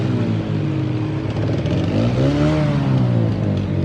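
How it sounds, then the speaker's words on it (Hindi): A steady, loud engine drone of a car driving nearby into a hospital during heavy monsoon rain in Karachi, pitch rising and falling slightly with the throttle over constant road noise. "ये देखें गाड़ी किस तरह अस्पताल के अंदर जा रही है।"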